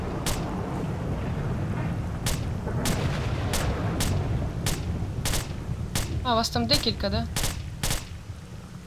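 Gunfire in S.T.A.L.K.E.R. while shooting at snorks, a rapid series of sharp single shots spread across the clip, one burst with chirpy creature or ricochet noises, under someone talking.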